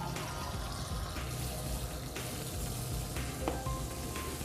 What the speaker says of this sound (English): First, we'll take a sample of normal tap water.